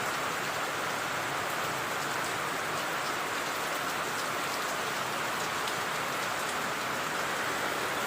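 Heavy, steady rain pours down during Typhoon Ramil in Pangasinan, a dense, even hiss of drops on surfaces with no breaks or voices.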